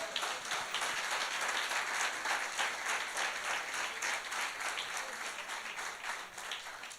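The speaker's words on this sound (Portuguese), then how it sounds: "Aplauda ele, Jesus," A church congregation bursts into sustained applause, a dense wash of many hands clapping steadily for about seven seconds with no voices rising above it.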